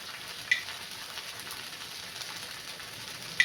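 A jowar flour batter crepe with vegetables fries in oil, a steady, moderate sizzle with two brief sharp crackles, one early and one near the end, and no talking.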